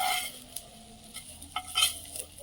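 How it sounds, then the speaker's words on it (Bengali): Soft sizzle of fish frying in oil with a few scraping and clinking touches of a utensil against the pan, fairly quiet and close. "তেল বেরিয়ে মোটামুটি ভালোভাবে তেলে ভাজা হয়"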